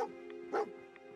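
Dogmeat, the dog companion in Fallout 4, gives a single short bark over a steady low background hum, a brief close yip followed by quieter trailing sounds.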